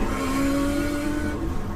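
A 700bhp Nissan Skyline R33 driven hard, its engine revving loudly with a strained, rising tone up close, then easing off near the end.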